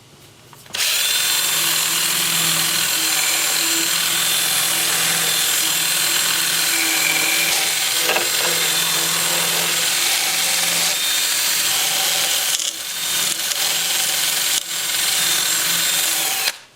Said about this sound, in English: I will go to my 2-inch sanding disc at 80 grit, and I'll have the lathe spinning in reverse at about 380 RPM